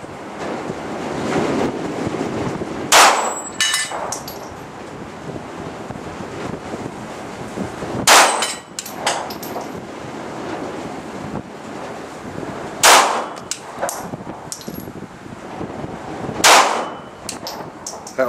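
Outdoor shooting range with an AR15 and handguns: four loud sharp gunshots spaced several seconds apart, each ringing against steel targets, over constant wind buffeting the microphone.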